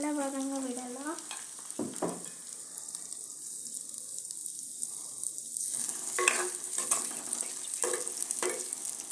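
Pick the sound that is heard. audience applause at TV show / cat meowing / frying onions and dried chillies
frying onions and dried chillies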